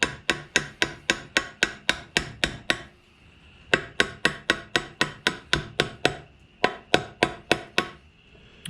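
Steel hammer blows on a Wheel Horse 8-speed tractor axle, a steady run of sharp ringing strikes about four per second, loud and close, with two brief pauses between bursts and no talk.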